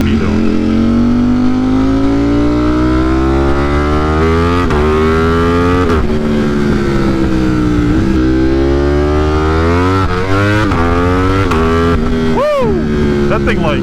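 A 200+ horsepower motorcycle accelerates hard in first gear and lifts into a wheelie, its loud, close engine note climbing repeatedly through revs with brief drops between pulls.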